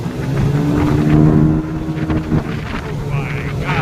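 A motorboat fitted with Bennett SLT 6 trim tabs, a new 16 pitch prop and a motor not yet broken in surges onto plane with a loud, rising engine drone and heavy wind buffeting the microphone.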